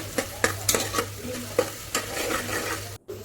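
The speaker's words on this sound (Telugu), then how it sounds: "ఆనియన్స్ కుక్ అవుతాయి కొంచెం బ్రౌనిష్ కలర్ వచ్చే వరకు కుక్ చేసుకోవాలి" Onions with salt sizzle and fry in a pan while a spoon scrapes and stirs them in repeated strokes, close and fairly loud, with a low hum beneath and a brief cut near the end.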